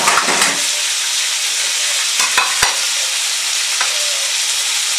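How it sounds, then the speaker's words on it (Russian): Beef tenderloin frying in a pan, a continuous crackling sizzle with a few sharp clicks and pan knocks near the start and middle, no voices. "покажу, как это все дело жарится"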